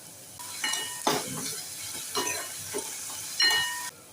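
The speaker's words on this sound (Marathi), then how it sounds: "कांदा आपल्याला छान व्यवस्थित फ्राय करायचा आहे" Onion with salt fries in a pan, a soft steady sizzle under several distinct spatula strokes scraping the metal, close and fairly quiet.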